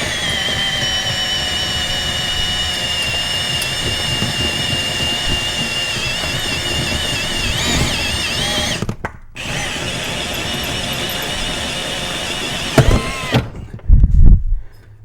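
A hole saw cutting through the steel firewall of a turbocharged Dodge Dakota RT, heard as a loud, continuous high-pitched whine with a brief pause midway and a sputtering finish as it breaks through.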